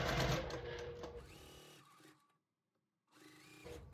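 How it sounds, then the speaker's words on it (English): Sewing machine stitching sunflower quilt petals together, a fast mechanical whirring run that slows and stops, a brief pause, then the motor starting up again close by. "I'll go ahead and sew the petals together"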